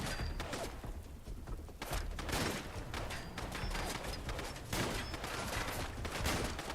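Repeated gunshots in Fallout London, a steady string of sharp, fairly quiet shots fired at an uneven rhythm over several seconds, alone with no talk.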